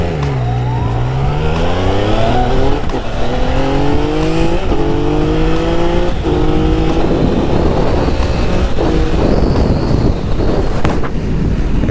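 Motorbike ridden fast, its engine loud and close as it revs up through rising gear changes over strong wind rush on the microphone. No one speaks.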